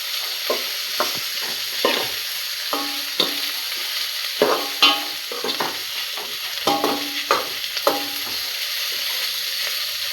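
Curry leaves fry in hot oil in a pan for a vegetable curry, with a steady sizzle broken by repeated scraping stirs of a utensil against the pan, loud and close, and no voices.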